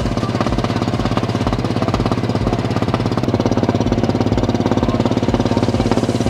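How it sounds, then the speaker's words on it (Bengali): A fishing trawler's engine thumps in a fast, regular chugging beat as the boat comes into shore from the deep sea off Moheshkhali island, loud and close throughout with no other sounds. "এই যে এই ট্রলারখানা, ফিশিং ট্রলারটা, যে এটা গভীর সমুদ্র থেকে এখন মাছ ধরে নিয়ে এই তীরে আসতেছে"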